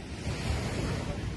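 Surf rolling onto a beach at Ngerenehan, steady broadband wash of waves mixed with wind buffeting the microphone, loud and continuous with no voices.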